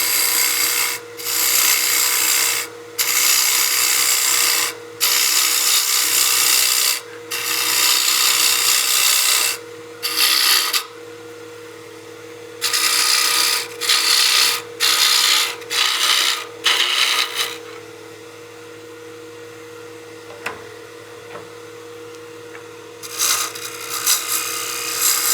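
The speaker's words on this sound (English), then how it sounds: "let's go ahead and get our bull gouge, and we'll start moving material" A bowl gouge cuts a spinning wooden block on a lathe running around 1500 to 2000 RPM, loud rasping bursts of shavings in repeated passes of a second or two separated by brief pauses, no talking.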